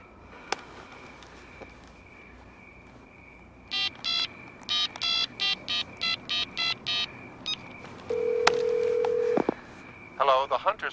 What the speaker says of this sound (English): Dial him up.